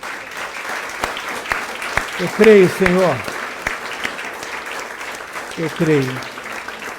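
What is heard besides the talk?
congregation applause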